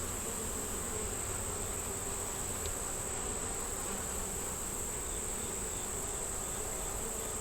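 Dense, steady buzzing of many honeybees up close in a hive, a continuous insect hum with a thin high whine running through it.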